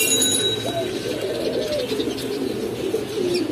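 Pigeons coo in low, soft, repeated murmurs at close range at a bird shop, a continuous throaty burbling with faint background noise.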